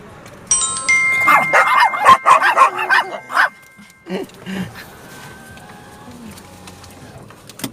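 Dogs at a petrol station bark and yelp in a rapid, excited burst, close and loud, then a few whimpers and quieter sounds follow.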